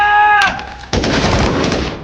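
A burst of jungle gunfire from a film shootout cracks out after a tonal opening, followed by a sustained noisy rumble of shots and echo.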